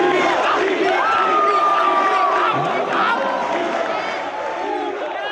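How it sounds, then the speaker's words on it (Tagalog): A crowd shouts and cheers for Boy Pickup at a comedy movie showdown, a loud sustained roar of voices with whoops and yells throughout. "isang sigawan para kay Boy Pickup!"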